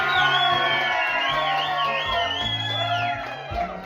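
At Gary's House Concert Series in Woodbine, Maryland, a house concert crowd whoops and cheers with loud, overlapping rising yells and shouts, backed by a low sustained tonal drone.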